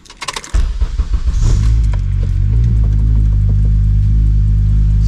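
An Acura TSX engine cranks briefly and fires up, followed by a loud, close, steady idle rumble with a faint rattle.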